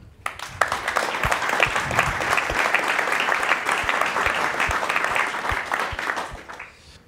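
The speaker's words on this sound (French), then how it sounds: "je crois qu'on peut les applaudir pour cela." An audience applauds at a French business conference speech, a dense, steady wash of many hands clapping that holds for about six seconds before tapering off, with no one speaking over it.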